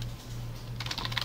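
Quick keystrokes rattle on a computer keyboard during a programming session, a burst of light clicks arriving in the last half second after a low steady hum.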